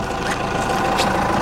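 A 4BT Cummins diesel engine in a truck idling after an idle adjustment, a loud, steady, low rumbling drone with a faint rhythmic knock, close up and uninterrupted.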